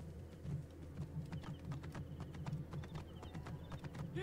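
Horse hooves in Assassin's Creed Origins clip-clop at a steady trotting rhythm, fairly faint, with a low continuous rumble underneath and no voice over them.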